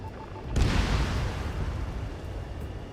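Anti-aircraft fire and explosions in the video game Ace Combat 7: a sudden loud boom breaks out and becomes a sustained, dense roar of blasts and rumbling that fills the rest of the moment, with no voices.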